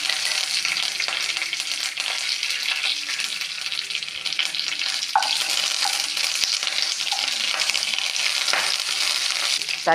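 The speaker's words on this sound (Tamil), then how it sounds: "இன்னும் ஒரு 1/2 ஸ்பூன் கூட எண்ணெய் விட்டு கடுகு போட்டு கருவேப்பிலை ரம்பையில் போட்டு தாளிக்கும்." Loud, steady sizzling and spattering of mustard seeds and curry leaves frying in hot oil, with a few sharp pops and crackles throughout.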